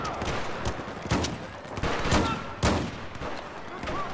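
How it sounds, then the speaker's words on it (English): Battlefield 4 Rush match gunfire: repeated sharp shots and short bursts crack through over about four seconds, with several louder nearby reports against steady battle noise, and faint voices mixed in. "Yo, keep shooting. Keep shooting, man."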